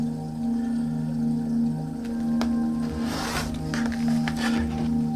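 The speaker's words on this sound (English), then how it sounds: "now I'm just going to go across again and do my 4-inch cut" A rotary cutter slices across folded Island Batik cotton fabric for a 4-inch strip, giving one brief, close, crisp scraping pass over a steady background hum.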